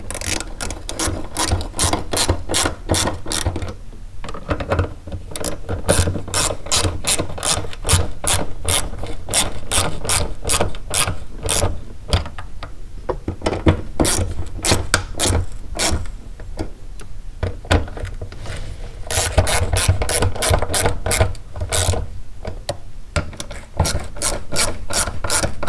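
Ratchet wrench snugging down bolts on a 2003 Toyota Matrix fuel pump, loud close rapid clicking in long bursts with brief pauses between runs.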